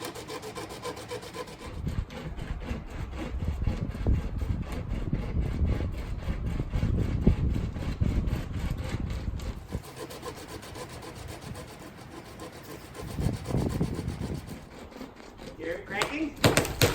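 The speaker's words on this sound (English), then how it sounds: "And this is making our chainsaw cut the branch." A cheap rope chainsaw slung over a tall tree branch rasps through the wood from below, a continuous gritty sawing with rhythmic pulls that pause briefly midway and resume.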